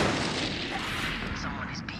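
A grenade explodes in the Valorant video game, a loud booming blast with rumbling, gunfire-like crackle filling about two seconds of game audio.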